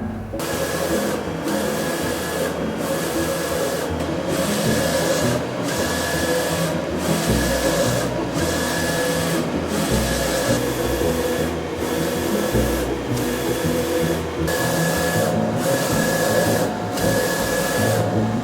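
A sign printer lays down city sign lettering, a steady mechanical whir broken by regular shuttling passes and short pauses as the print head sweeps back and forth, close and continuous.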